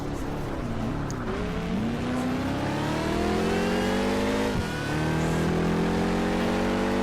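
A twin-turbo car's engine in Project Gotham Racing 4 revs loud and steady, its pitch climbing and dipping through gear changes, with a sharp drop partway through before it winds back up.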